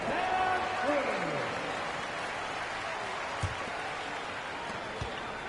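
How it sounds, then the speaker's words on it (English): An arena crowd at a basketball game applauds and cheers in a steady, dense wash of clapping. A voice comes through faintly underneath, with a couple of soft thumps. "And a big round of applause for your D-Town crew."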